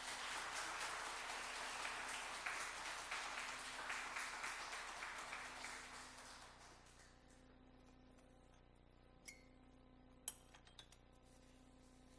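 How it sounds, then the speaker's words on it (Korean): A church congregation claps warmly to welcome a pastor, dense applause filling the room for several seconds before fading out, leaving a few faint clinks and taps. "우리 맞이하실 때 박수로 뜨겁게 맞이해 주시면 감사하겠습니다."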